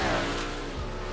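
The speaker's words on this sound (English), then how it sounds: "You can hear the cars in the background." Engine noise from Big Block Modified race cars in a video game hums steadily throughout, a continuous motor drone with no talking over it.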